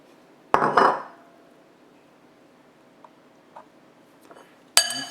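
Cut potato fries are tossed with olive oil in a bowl, making a few short bursts of clattering and clinking close by, with near silence between them.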